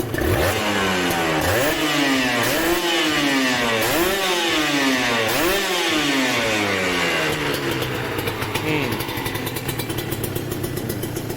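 A Serpico 150 SE or NSR 150 SP motorcycle with a carbureted two-stroke engine, revved close up in several rising and falling blips, then dropping back to a rough, steady idle.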